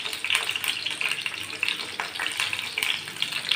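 Boiled eggs and dried prawns frying in a pan for a brinjal, egg and dry prawn curry, a steady close sizzle with faint crackling and light stirring throughout.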